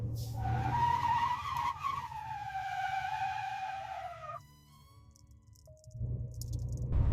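A heavy truck skids with its brakes locked on a frozen road, a loud, sustained grinding squeal that runs for about four seconds before cutting off, followed by rattling and low rumble.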